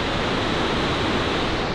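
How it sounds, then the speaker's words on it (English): A waterfall at an overnight stop along scenic European driving roads, a steady broadband rushing roar, close and fairly loud with no variation and no other sounds. "And the waterfall, just incredible."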